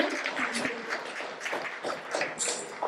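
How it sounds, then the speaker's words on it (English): An audience claps in a graduation ceremony hall in Atlanta, with bursty, uneven applause from many hands going on throughout, fairly close and loud, with some crowd noise mixed in. "সবার একটা জোরে হাততালি হয়ে যাক অনেকের মেন্টালিস্টের জন্য"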